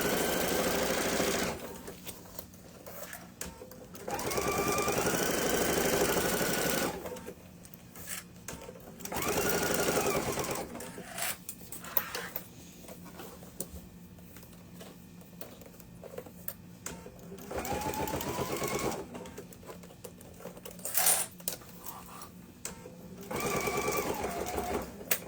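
A sewing machine stitches backpack fabric in close, rapid bursts of mechanical chatter separated by quieter pauses as the work is repositioned. Soft handling sounds fill the pauses.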